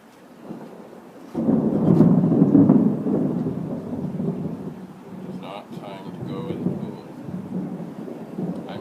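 Thunderstorm with a heavy roll of thunder building and rumbling low, then fading into steady rain and wind noise, with faint intermittent speech-like sounds near the end.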